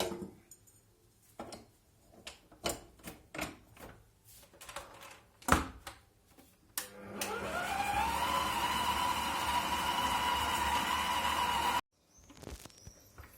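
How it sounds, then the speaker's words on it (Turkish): Powdered sugar and starch are stirred for cookie dough with a run of light clicks and taps, then an electric mixer whirs loudly and steadily for several seconds before stopping abruptly, followed by a few faint knocks. "pudra şekerimi ve nişastayı koyarak karıştıracağım"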